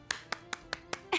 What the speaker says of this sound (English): Now let's clap fast.